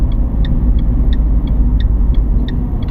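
A car engine rumbles low and steady as the driver downshifts on the approach to an intersection. Evenly spaced ticking clicks, like a turn signal, sound over the engine, and no one speaks.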